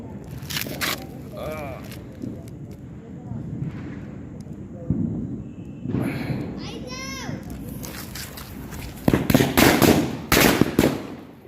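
Diwali firecrackers burst outdoors, with a few scattered pops early on and a loud cluster of sharp cracks near the end. Children and adults talk and laugh throughout.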